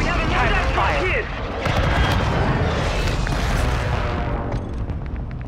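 Gunfire in a Call of Duty: Modern Warfare II firefight, dense bursts of shots and booms rolling on continuously at close range, with voices calling out over the shooting.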